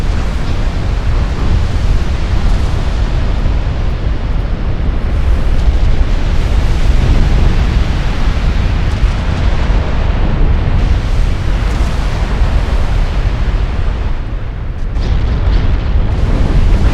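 Warship blowing up from a flash fire in a naval video game: a sustained, loud, rumbling roar of explosion and burning debris lasting throughout, with dense low-end boom and no voices.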